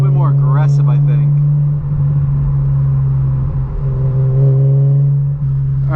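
A 2006 BMW Z4M drives along with a steady low engine drone and a brief rising rev near the start, while a person talks over the cabin sound.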